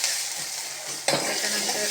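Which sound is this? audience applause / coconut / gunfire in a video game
coconut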